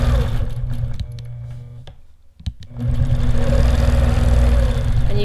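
An APQS longarm quilting machine stitches a diamond design with a steady mechanical hum. It pauses briefly in the middle, then resumes running.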